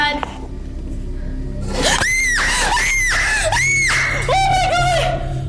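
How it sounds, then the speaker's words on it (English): Several long, loud, high-pitched screams ring out in an abandoned monastery at night, each one rising and sustained, with shorter wavering cries toward the end. "I heard some screaming"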